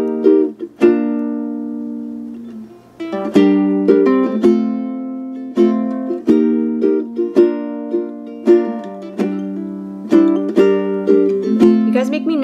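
A ukulele strums and plucks the chords of a song in a repeating pattern, each chord ringing out and decaying. It is played alone and close, with one short pause near the start.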